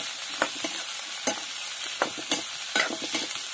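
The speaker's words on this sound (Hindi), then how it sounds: "तो अब प्याज ला डाल लेथन। तो ये आगे प्याज अब तो थोड़ा हल्का चला लेथन।" Onion being stirred and fried in oil in a pan with browning potatoes, a loud, steady sizzle punctuated by regular scraping strokes of a spoon, roughly one every half second, close and without talk.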